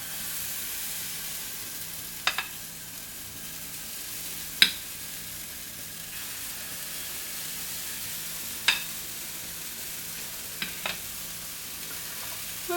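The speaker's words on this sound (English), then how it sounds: "I'm going to cook mine in clarified butter, but you can also use regular butter or oil." Banana and coconut pancakes sizzling in clarified butter in a pan, a soft continuous sizzle with a few light taps of a utensil scattered through, no talking.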